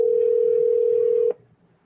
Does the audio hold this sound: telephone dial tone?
yes